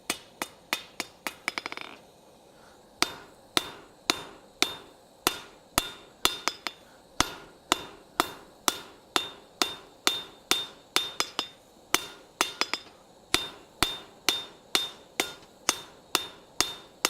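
A blacksmith's hammer strikes metal on an anvil during winter forging of a sled part, ringing blows falling in a steady, fairly quick rhythm with a brief pause, loud and close, with no talk.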